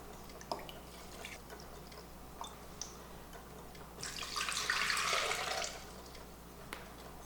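About one and a half cups of water are poured for a homemade tomato soup, a quiet few-second splashing rush midway through, amid faint kitchen clicks and drips.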